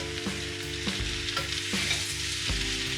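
Spinach leaves, about 250 grams, stirred in a hot pan with salt added to wilt them, giving a steady sizzle broken by a few scraping stirring strokes at regular intervals, with no voices.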